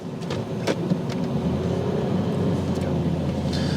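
A 1996 Pontiac Firebird Formula with a manual clutch pulls away for a drive around the block in Las Vegas, its engine a steady low drone at moderate distance with a few sharper bursts.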